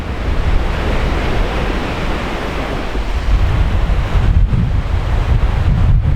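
Ocean waves wash steadily onto an island beach on Eleuthera, a loud continuous surf roar with wind buffeting the microphone, swelling slightly toward the end and heard alone without voices.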